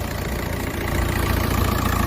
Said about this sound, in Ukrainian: двигун в такому стані. Працює шепче ідеально.